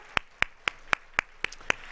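A church congregation claps in thanksgiving during a worship service, with eight sharp, evenly spaced claps in a steady rhythm, moderately close and without any voices over them.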